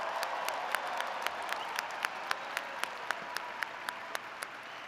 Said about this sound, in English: Let's give you a round of applause now.